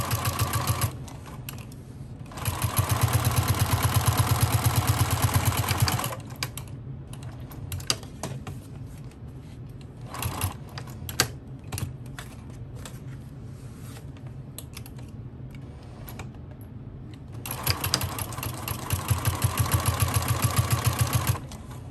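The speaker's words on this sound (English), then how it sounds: "Just sewing those pieces together, laying it open, and top stitching." A sewing machine stitches bag pieces together in two long steady runs, a fast even whirring at the start and again near the end, with quieter handling clicks and shuffling between them.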